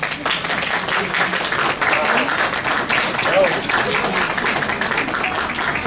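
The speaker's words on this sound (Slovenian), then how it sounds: "Gospe in gospodje, zaploskajmo nocojšnji gostiteljici" An audience applauds the evening's hostess at the opening of a language school and quilt studio, steady clapping throughout with crowd murmur and voices mixed in.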